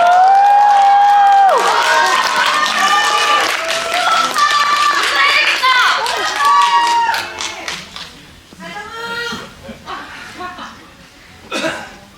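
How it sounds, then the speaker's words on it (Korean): Cinema audience in a packed screening hall welcomes guests with loud, sustained applause and scattered cheers, a dense crowd roar that thins out toward the end with a few remaining claps and voices. "큰 박수로 맞이해주세요."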